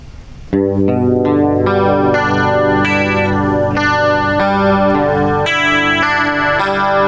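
Electric guitar arpeggios ring out steadily through a TC Electronic 3rd Dimension chorus pedal, shimmering and swirling, each note chiming clearly and loudly with no talking.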